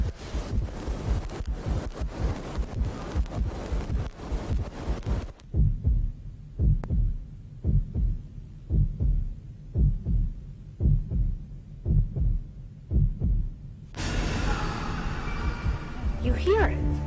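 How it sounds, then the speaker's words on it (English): A steady heartbeat-like thump pulses in a reportedly haunted house, regular low double beats repeating alone for several seconds between stretches of louder noise and hushed voices. "You hear it. You hear a heartbeat."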